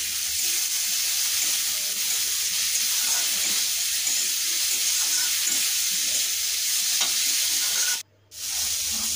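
Boiled peas with onion for kachori filling fry in a pan with a steady loud sizzle, stirred throughout with soft scraping, briefly cutting out near the end.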